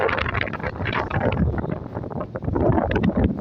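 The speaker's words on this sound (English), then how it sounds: "Super windy." Strong wind on the deck of the Alaska ferry MV Columbia buffets the microphone in heavy, rumbling gusts, a constant roaring noise with no voices.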